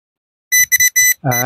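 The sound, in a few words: metal detector beeping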